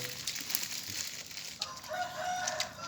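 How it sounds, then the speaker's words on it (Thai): A rooster crows outdoors, a drawn-out call at moderate distance rising over steady background noise, with no one talking. "ไก่"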